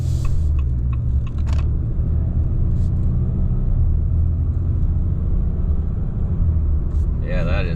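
A 2025 Ram 3500 pickup truck with an 8-speed transmission drives along, giving a low, steady rumble and road whir from inside the cab, with occasional faint clicks and a brief voice near the end.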